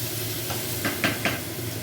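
Potatoes frying with black cumin, onion and ginger in a pan: a soft steady sizzle with three or four quick scraping stir strokes close by, and no voices.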